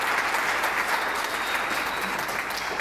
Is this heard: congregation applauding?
yes